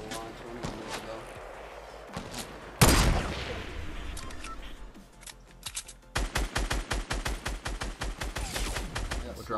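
Bullets strike a built wooden wall in a shooter video game: quick bursts and single cracks of gunfire with a loud blast in the middle, then a rapid rhythmic volley of hits near the end, with some game sound underneath.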